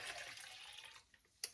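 Homemade vegetable stock pours into a container in a kitchen, a steady soft liquid splash for about a second, then thinning to a few faint drips and one small clink.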